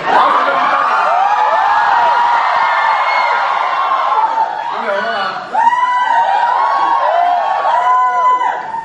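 A crowd at a family celebration cheers, whoops and laughs, overlapping shouted voices rising and falling in loud bursts, with a brief dip midway before a fresh surge of whooping.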